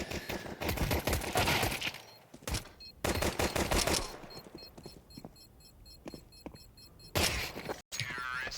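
Gunshots in a professional Counter-Strike match between MIBR and Wildcard, with several sharp bursts of rapid fire separated by brief pauses and a final isolated shot, alongside an excited commentator's voice and game beeps.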